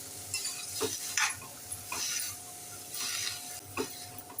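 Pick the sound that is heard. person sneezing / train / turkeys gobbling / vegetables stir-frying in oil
vegetables stir-frying in oil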